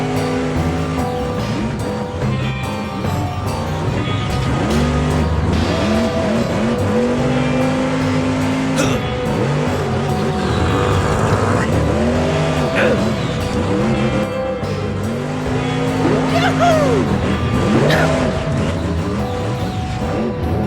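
A monster truck of about 1,000 horsepower roars up a dirt hill climb, its engine holding a loud, continuous growl with repeated rising and falling revs throughout.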